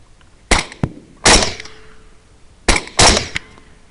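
Four sharp rifle shots fired at running hogs during a night thermal hunt, loud and close, in two pairs with short pauses between them, each crack ringing briefly, no talking.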